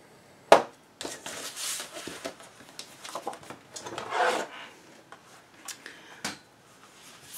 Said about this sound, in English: We'll put it on the 5 1/4 side and we'll score it at 1/2 inch.